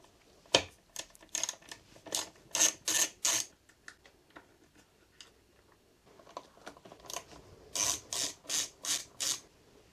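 A ratcheting tool loosens the negative battery terminal on a motorcycle during an accessory power install, giving two runs of sharp, close clicks in quick rhythmic bursts separated by a quieter stretch of faint handling noises.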